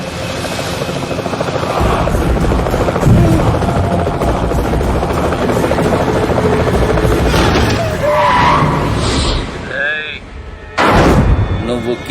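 Helicopter rotor noise in a Telugu film scene, a loud continuous thrum lasting throughout with heavy low-frequency bursts near the end, while voices talk over it.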